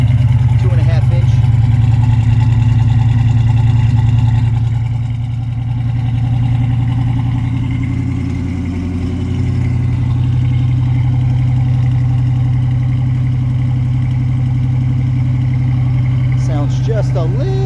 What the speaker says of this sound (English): nice throaty sound to the exhaust.